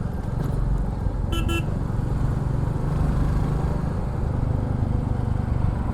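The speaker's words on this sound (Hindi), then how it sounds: "एग्जॉस्ट साउंड आ रहा है कि नहीं आ रहा?" A Royal Enfield Bullet 350 motorcycle with a steady exhaust thump and engine rumble, close and continuous, under road noise with a brief horn toot early on.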